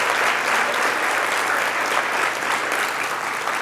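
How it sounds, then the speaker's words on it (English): Sustained audience applause fills a church service at Seattle Unity, a dense, steady clapping from a full congregation that holds at even strength throughout with no voices on top. "Let's give them another round of applause."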